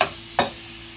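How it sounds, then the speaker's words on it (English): Ground meat browns in a pan as a spoon breaks it apart: one short scrape-and-clack over a soft, steady sizzle, close by. "So I simply just use the spoon and kind of, chop the meat up a little and then let it continue to brown."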